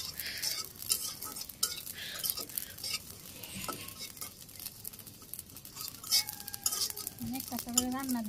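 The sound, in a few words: whole cumin seeds being stir-fried in a pan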